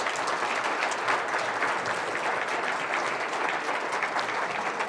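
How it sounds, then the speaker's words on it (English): Steady, dense applause from an audience at a public forum with Oregon Attorney General Ellen Rosenblum, loud and sustained throughout without a break. "Let's give Ellen a round of applause."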